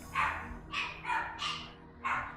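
Dogs bark in a series of about five sharp, loud barks at uneven intervals, close by, with a low background hum between them and no talk.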